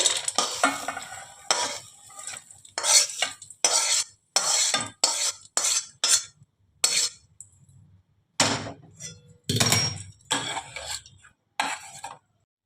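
Dry-fried red lentils are stirred and scraped out of a pan, a series of short gritty rattling scrapes with brief pauses between strokes, close and fairly loud.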